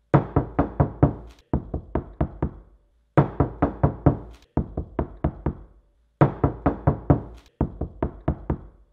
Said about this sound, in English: Now we can do the classic knock test in order to hear how quickly the vibration stops